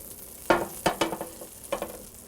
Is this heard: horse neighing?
no